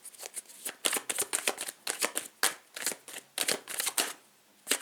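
Tarot cards being shuffled in a rapid run of crisp riffling flutters and soft slaps, close and fairly loud, with brief pauses between bursts and no voice.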